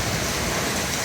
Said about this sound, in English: we're getting a little bit of rain. They're calling it a severe thunderstorm.